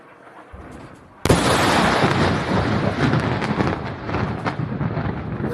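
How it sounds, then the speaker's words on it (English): A very large explosion in Lebanon erupts suddenly after a quiet moment, a loud broadband boom that rolls on into a sustained rumbling roar and crackle for several seconds. "this other footage that came out over the weekend on X. I don't know if you've seen this of a very large explosion in Lebanon, allegedly"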